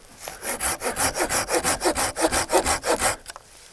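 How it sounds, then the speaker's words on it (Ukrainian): A Japanese Silky F180 hand saw cuts wood in about fifteen quick, even rasping strokes, close and loud, with no talk. "Як пилка пиляє в двох положеннях полотна."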